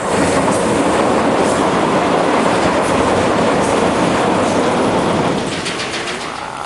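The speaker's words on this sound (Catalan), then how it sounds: "espera, que passa un tren" A train rolls past nearby beside a river, a loud steady rumble with rhythmic clatter of wheels on rails that fades slightly toward the end.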